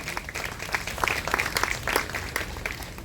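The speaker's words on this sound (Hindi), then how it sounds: "जोरदार तालियां दीजिए।" An audience claps at a 75th birthday celebration party, a lively burst of applause from a crowd, fairly close and sustained for a few seconds without speech.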